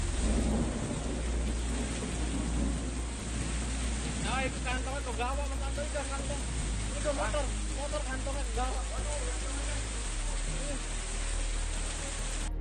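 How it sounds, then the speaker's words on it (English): Heavy rain pours steadily during severe flooding in Ciremai Raya, Kota Cirebon, Indonesia, with thunder rumbling beneath a constant dense hiss; faint voices and chirping sounds rise intermittently through the downpour. "Heavy rains caused severe floods in Ciremai Raya,"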